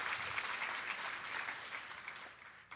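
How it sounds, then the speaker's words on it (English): Conference plenary audience applauding, a continuous even patter of many hands heard somewhat distantly, ending with a sudden louder knock. "yes, that's worth an applause right there, absolutely."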